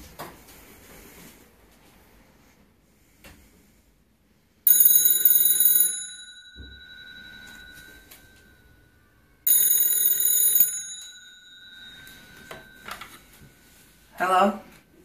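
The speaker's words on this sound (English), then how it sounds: "Let's call the house phone." A 1915 Western Electric 20AL candlestick telephone hooked to a MagicJack line rings loudly in two long metallic bell bursts, with brief talk and handling noise between them.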